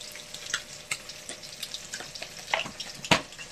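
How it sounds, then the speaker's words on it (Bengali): Fish fries in a pan with a soft, crackling sizzle marked by a few sharper pops and spits, fairly close and with no talk. "আর এদিকে মাছ ভাজা হচ্ছে"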